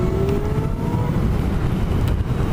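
A 2015 Zero SR electric motorcycle pulling away under acceleration, its rising motor whine climbing steadily in pitch over loud, steady wind and road rush.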